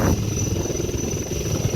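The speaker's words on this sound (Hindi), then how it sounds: "ये देखिए हेलीकॉप्टर उड़ाने की शैली" A military helicopter flies close by during an Indian Army paratrooper operation, its rotor thumping in a rapid, even rhythm under a constant high turbine whine, loud and with no talk.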